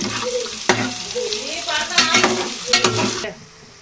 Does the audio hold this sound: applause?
no